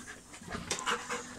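A dog in a cage pants rapidly and steadily, the quick breaths mixed with faint whining moans, heard close up and fairly quietly.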